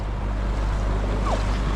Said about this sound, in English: This is all water spewing into our town.